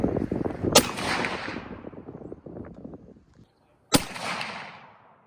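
Two sharp, loud rifle shots about three seconds apart while hunting guns are sighted in, each a crisp crack followed by a long rolling echo that fades out.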